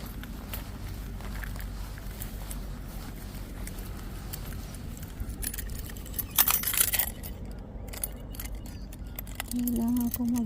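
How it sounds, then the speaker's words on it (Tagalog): A ring of keys jangles in a short metallic burst partway through while someone unlocks a house door, set against steady low outdoor background noise and a brief hum near the end. "Kailangan ko magsusi."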